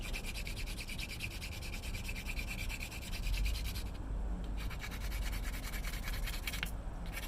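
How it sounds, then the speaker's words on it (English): Sandpaper rubs back and forth on wooden nubs in a steady, close rhythmic scratching, pausing briefly twice before resuming. "Get these nubs sanded down, and then we'll come around with the sandpaper to get it really nice and smooth"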